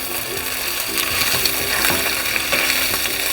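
Chicken gizzards fry in a pan with onions, a steady loud sizzle running throughout with scraping, clicking stirs from a utensil at intervals.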